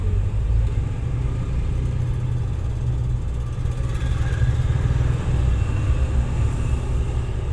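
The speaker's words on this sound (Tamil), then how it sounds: "இப்போ தெரியுதா 2 பக்கமும் வண்டி வர்றது?" Vehicles pass on both sides of a road, heard as a continuous low traffic rumble with engine drone rising and fading, steady and fairly loud, with no talking.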